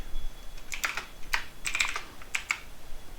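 Keys clatter on a computer keyboard as a command is typed, a close run of quick, irregular clicks in short bursts with brief pauses between them.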